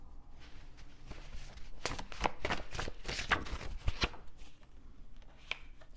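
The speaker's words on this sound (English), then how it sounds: "I'm gonna shuffle a little bit more." Tarot cards being shuffled close up in a run of crisp, papery riffles and slaps, loudest and densest in the middle stretch, with no voices over them.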